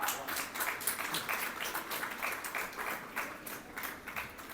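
A hall audience at a children's literary awards ceremony claps steadily, a soft, even patter of many hands that carries on without pause, moderately distant and fairly quiet.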